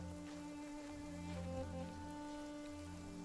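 Rain in the video game Genshin Impact falls as a soft, steady patter, faint and even, with a constant tonal game background underneath and no voices.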